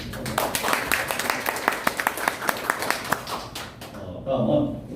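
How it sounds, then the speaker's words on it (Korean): Applause at a civic association lecture event: a small crowd claps for a few seconds, with several sharp, distinct claps standing out before it dies away and a voice begins speaking. "다시 한번 박수."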